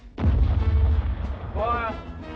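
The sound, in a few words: artillery gun firing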